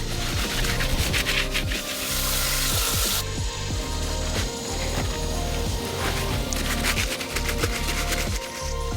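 A Honda ATC 110 front fender is scrubbed by hand, a loud continuous rhythmic rasping with repeated back-and-forth strokes, close up.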